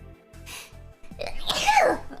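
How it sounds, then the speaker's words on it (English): A single sneeze bursts out after a faint build-up, loud and close, over a soft rhythmic game music loop. "I need to sneeze"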